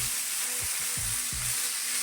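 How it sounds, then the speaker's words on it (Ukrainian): Sliced mushrooms sizzle steadily in a hot frying pan, with a few soft scraping stirs underneath. "На сковорідці обсмажуємо нарізані гриби"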